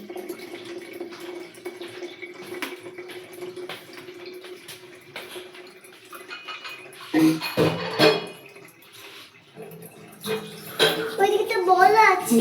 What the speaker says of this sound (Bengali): আমার খুদে হেল্পার জল ভরে আমায় হেল্প করছে